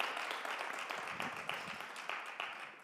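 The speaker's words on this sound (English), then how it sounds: "Let's have a round of applause for Mr. Bashaw and Matthew." Quiet applause from the audience at an open forum with a U.S. Senate candidate, a soft, fairly distant patter of clapping that stays even for nearly three seconds and eases off slightly at the end.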